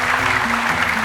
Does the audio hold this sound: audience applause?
yes